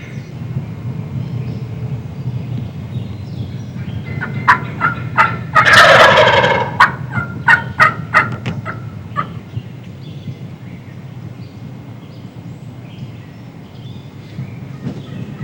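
Wild fantail turkey gobblers in spring woods near Macomb, Illinois, sound off in a burst of loud, overlapping gobbles, followed by a rapid series of shorter gobbles and calls that fade into a steady low background rumble.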